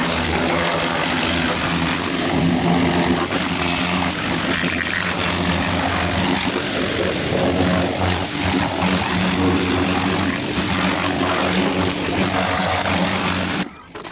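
A small power washer sprays down a Jeep parked behind a trailer, giving a loud, steady motorized roar with hissing water spray that runs unbroken for about fourteen seconds before cutting off at the end.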